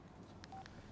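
Brief telephone keypad tone from a public phone, a single short steady beep rising faintly above a low background hum.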